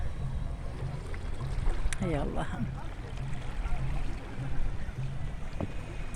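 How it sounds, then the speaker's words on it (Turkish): Sea water rustles and washes steadily under wind noise, while a voice briefly exclaims. "Su hışırtısını duyacağım."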